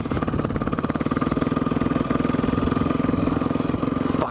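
Motorcycle engine idling and revving close by, a loud steady throb with a rapid pulsing rhythm throughout, swelling slightly toward the end, with no talk over it.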